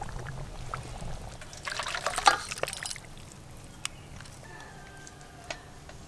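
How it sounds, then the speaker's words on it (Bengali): Fish curry made with a large rupchanda fish is poured out of the pot, a brief soft trickle and slosh of thick gravy amid faint kitchen clinks and ticks. "মাছের কালিয়া কিন্তু একদম রেডি। এবার ঢেলে নেব।"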